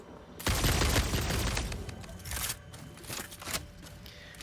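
Rapid gunfire bursts in the factory-building game Satisfactory, loud and close, with a dense opening volley followed by scattered sharper shots and short bursts, with no talking.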